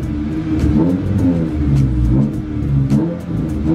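A Mitsubishi Lancer car engine runs close by with a steady rumble, revving up and down in several rises across the stretch, with no talk over it.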